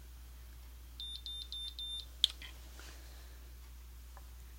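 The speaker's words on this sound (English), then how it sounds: "And then when you get to the 3 beeps is when it's done" A BaByliss Miracurl hair curler signals a finished curl with a run of short, evenly spaced electronic beeps, followed by a sharp click and a few faint clicks in a quiet room.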